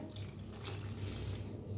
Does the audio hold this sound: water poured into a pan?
yes